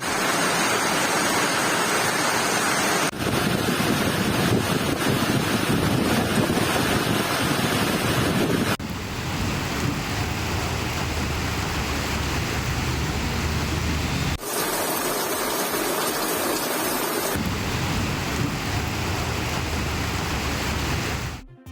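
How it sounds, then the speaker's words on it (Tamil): Rushing floodwater and heavy rain during flooding in Jammu and Kashmir make a loud, continuous broadband roar that cuts between several sections, with no voices. "ஜம்மு காஷ்மீரில் கொட்டித்தீர்த்து வரும் கனமழை காரணமாக ஆறுகள் பலவும் நிரம்பி வழிந்து வரும் நிலையில்"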